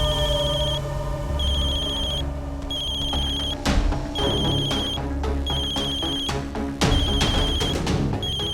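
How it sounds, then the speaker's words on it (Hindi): A telephone rings in repeated bursts of a bright electronic ring with short pauses between them, heard close and clear while a call is being placed, with faint background noise beneath. "बिट्टू, साना को फोन लगा के देना, हमको बात करनी है।"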